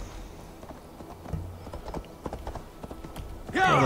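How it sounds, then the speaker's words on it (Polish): Horse hooves clip-clopping at a steady walking rhythm in Assassin's Creed Valhalla, with a brief snort and rustling ambience, ending in a louder burst of game sound. "Koń grzecznie czekał."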